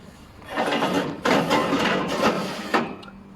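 A ladder being stowed on a truck gives several close bursts of metallic rattling and clattering, with a sharp knock near the end before it falls quiet.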